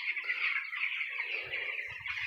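Black poultry chickens on a farm: a dense, continuous chatter of many birds clucking and murmuring together at moderate distance, with low thumps near the end. No talk.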